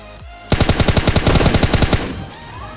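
Rapid automatic gunfire in the battle-royale game PUBG Lite, a burst of about fifteen evenly spaced loud shots over roughly a second and a half, followed by a fading tail with no talk.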